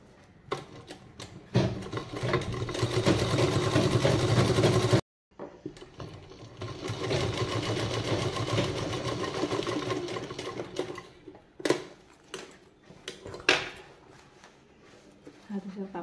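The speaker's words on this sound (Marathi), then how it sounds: "आता शिलाई देते।" A domestic sewing machine stitches fabric in loud, steady runs that stop and restart, with short pauses and small clicks between bursts; a few soft voices are heard faintly.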